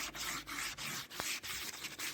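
Steady rubbing abrasion of sandpaper over wood being shaped for a garden planter, a continuous close scratchy texture with brief pauses between strokes, no voices.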